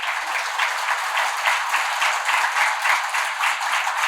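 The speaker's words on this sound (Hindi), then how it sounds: "और जोरदार तालियों के साथ में" Ceremony audience at a golden jubilee celebration in Nagpur bursts into loud, dense applause, a steady wash of many hands clapping close and continuous throughout.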